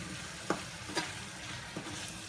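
Masala sizzling in oil in a pan for matar mushroom curry, a constant hissing fry with a few sharp spoon taps and scrapes at intervals, close and alone.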